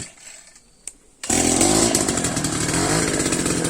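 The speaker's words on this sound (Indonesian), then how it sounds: "kita akan lakukan pengeboran" A power drill bores into a tree trunk to make a hole for trunk injection of insecticide against bagworms. After a quiet moment it starts abruptly and runs loud, close and steady to the end.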